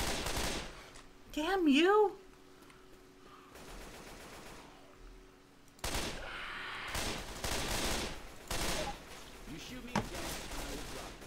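Bursts of gunfire in Left 4 Dead 2 crack out in short volleys between quieter stretches, with someone shouting briefly early on and other voices talking over the shooting.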